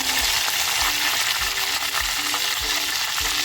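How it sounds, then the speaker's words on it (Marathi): Garlic and chopped coriander sizzle steadily in hot oil inside a clay pot, a loud continuous frying hiss with soft repeated stirring thumps and no voices. "तेल बघा छान तापले लसूण टाकते थोडीशी कोथंबीर टाकते"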